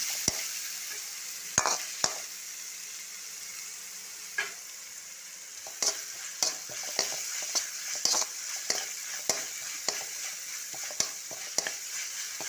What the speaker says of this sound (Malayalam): വെളുത്തുള്ളി പേസ്റ്റിൻ്റെ പച്ച ചുവ മാറുന്നത് വരെ ഒന്ന് മൂപ്പിച്ച് കൊടുക്കണം